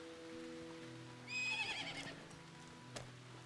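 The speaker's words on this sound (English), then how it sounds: "Look, there's my horse." A horse in the medieval village game Medieval Dynasty gives a short, high whinny over a quiet background hum of the game world, followed by a single soft thud.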